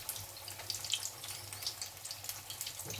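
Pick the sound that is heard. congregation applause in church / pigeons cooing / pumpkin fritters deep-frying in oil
pumpkin fritters deep-frying in oil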